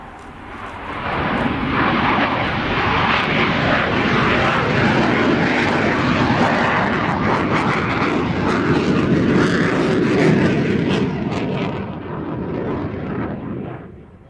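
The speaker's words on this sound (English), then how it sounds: "We've got 32 of these aircraft in service across 2 units." Military aircraft, one of a fleet of 32 with a Polish tactical squadron, roars past at an airshow, a loud sustained broadband engine rush that holds steady for most of the span before tapering off.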